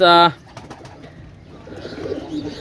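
Pigeons coo softly in a loft after a brief loud tonal burst at the start, with low murmuring calls and faint chirps building toward the end.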